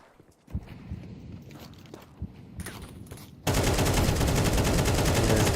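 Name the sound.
rifle spray gunfire in a video game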